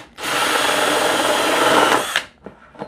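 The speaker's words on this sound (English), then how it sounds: "I'm going to drill some holes in here. I'm using a 1-inch hole saw." A power drill fitted with a 1-inch hole saw bores a hole into a quail enclosure, one steady loud whine of about two seconds that stops abruptly, followed by a few faint clicks and taps.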